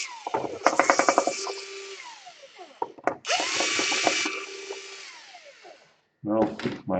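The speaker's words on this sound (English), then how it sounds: "You wanna unscrew this guy." A power screwdriver whirs in repeated bursts, spinning up and winding down, while backing screws out of an Asus G46 series laptop during a DC power jack repair; close and loud, with brief pauses between runs.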